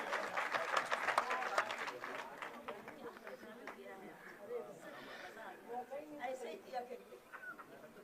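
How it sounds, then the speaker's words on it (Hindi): An audience at a poetry tribute gathering claps for poet Dr. Vishnu Saxena, with moderate, somewhat distant applause that thins out while voices and chatter continue underneath. "आपकी जोरदार तालियां उनके लिए हो।"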